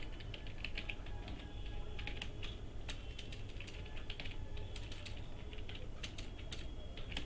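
Keys clack on a computer keyboard while code is typed for a Python lesson: quiet, irregular clicks in uneven bursts over a steady low room hum, with no talking.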